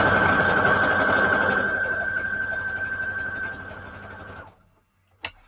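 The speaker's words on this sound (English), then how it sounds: "I forgot I need to do a zigzag stitch all around the cover." A sewing machine runs a zigzag stitch around a fabric cover for junk journal pages, a loud continuous mechanical whir that slows and fades out, followed by near silence and a single sharp click.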